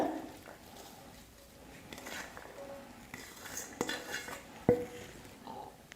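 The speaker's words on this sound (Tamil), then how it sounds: "இப்போ ஒரு பாத்திரத்தில் மாற்றிக்கிறேன்" Soft kitchen clatter as a utensil scrapes and clinks against a bowl, with a few sharper knocks near the end.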